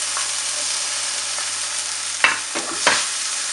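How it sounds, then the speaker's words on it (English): Chopped tomato and red pepper stirred into a hot pan for stuffed squash with paneer, giving a steady broadband sizzle with a few sharp spoon scrapes near the end, close and alone. "Stir in the chopped tomato."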